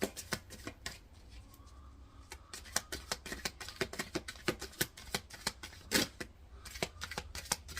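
A deck of cards is shuffled by hand in a quiet room, a rapid run of crisp riffling snaps and flicks close by with brief pauses between bursts.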